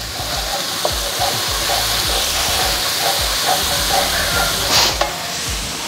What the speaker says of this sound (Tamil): இதில் முதல்ல நம்ம இஞ்சி பூண்டு பேஸ்ட்டு 1/2 ஸ்பூன் அளவுக்கு போட்டுக்கலாம். இஞ்சி பூண்டு பேஸ்ட் வந்து நல்லா இதுவாகட்டும்.